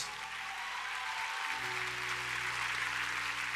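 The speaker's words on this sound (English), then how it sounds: "I think they deserve another round of applause" An audience at the Miss Gibraltar 2014 beauty pageant gives a sustained round of applause, a steady wash of many hands clapping, fairly soft and distant.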